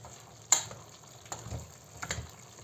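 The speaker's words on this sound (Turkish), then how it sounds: "karıştıralım" A spoon stirs grated tomato in a cooking pot while it sizzles softly, with a sharp scrape near the start and a few quieter clinks and scrapes over a low frying hiss.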